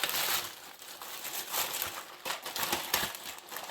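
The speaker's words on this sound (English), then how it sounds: "So let me rip it open here." Plastic packaging for OEM Husqvarna 385XP chainsaw parts is ripped open close up, with continuous crinkling and tearing rustle for several seconds.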